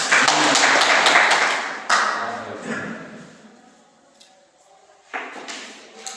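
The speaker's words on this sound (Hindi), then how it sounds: "एक बार इनके लिए जोरदार तालियां" A burst of clapping from a village business gathering rings out at the start, then thins into scattered claps and taps that fade and pick up briefly again.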